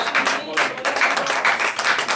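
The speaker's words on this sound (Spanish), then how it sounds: "Denle un fuerte aplauso al Señor." A church congregation applauds the Lord during a Spanish-language service, dense enthusiastic clapping in quick bursts, loud and continuous with faint voices mixed in.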